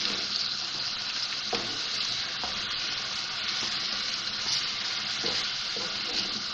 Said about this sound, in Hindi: ये डाल के इसको मिक्स करेंगे और फिर इसको भूनूंगी मैं